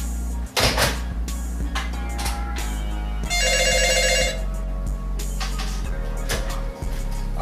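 A telephone rings loudly in a mixed-up, busy room, a bright electronic ring burst in the middle of the clip among clatter and cupboard-like knocks, with no talking.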